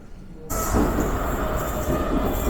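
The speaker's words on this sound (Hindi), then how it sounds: "आ गई भाई अपनी मेट्रो आ गई।" After a quiet moment, a Barcelona metro train rushes into the station with a sudden loud roar, its wheels rumbling and clattering steadily close by.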